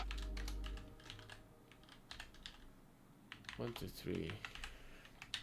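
Keystrokes on a computer keyboard as a password is entered, a quick run of light clicks, close by, with someone speaking briefly over part of it.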